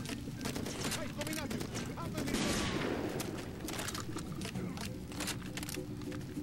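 Rifle gunfire in the video game Far Cry 2 comes as rapid bursts of sharp shots with a whooshing blast partway through, heard alongside game noise and some talk.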